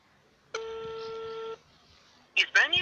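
A single steady phone tone sounds for about a second while a number is called, followed after a pause by a short burst of close speech.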